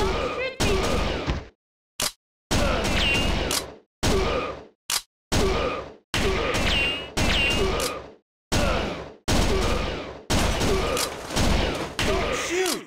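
Arcade gunfire in Virtua Cop 2 from 1995: a loud, close, choppy series of gunfire bursts broken by short silences and a few quick single shots, with game voices mixed in.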